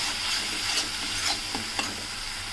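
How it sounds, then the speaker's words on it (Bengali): Coriander powder, cumin powder and salt are stir-fried in a pan for a cauliflower kofta curry, a loud close sizzle with soft intermittent scrapes of a stirring spoon. "সমস্ত মশলাগুলো দিয়ে এবার দু থেকে তিন মিনিটের মতো কষিয়ে নিতে হবে"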